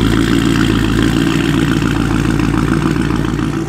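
A Chrysler 300 SRT with a catless exhaust idles loudly close up at night, a constant deep rumbling burble with no change in pace.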